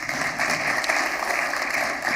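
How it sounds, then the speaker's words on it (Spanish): Audience applause for a presenter at a building waterproofing manual launch event, a dense, steady wash of many hands clapping at once, loud and even from start to finish with no voices on top. "Un fuerte aplauso."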